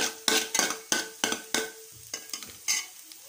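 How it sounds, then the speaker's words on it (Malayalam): Eggs frying with tapioca in a pan for a roadside-stall style dish, stirred in repeated sharp scraping strokes over a steady sizzle, close and fairly loud, with no talking. "അപ്പം നമ്മുടെ ഈ മുട്ടയൊന്ന് നന്നായിട്ട് പൊരിച്ചെടുക്കണം"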